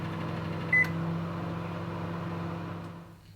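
A microwave oven runs with corn kernels in hot resin inside, a steady low hum and drone with one short beep early and a faint tick near the end before the sound dies down.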